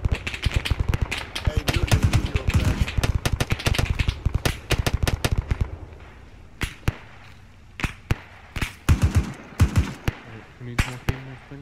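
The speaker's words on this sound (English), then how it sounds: "Somebody's shooting at us." Gunfire in the Arma 3 military game: dense bursts of rapid shots crackle for several seconds, then thin out into scattered single and double reports, with faint radio voices beneath.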